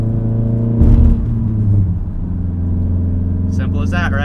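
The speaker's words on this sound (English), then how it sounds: "Downshift to fifth, normal rev match, and then downshift to fourth, on the brakes, heel toe," A car engine rumbles steadily through heel-toe downshifts, with two short throttle blips that rise and fall in pitch early on, and a voice briefly at the end.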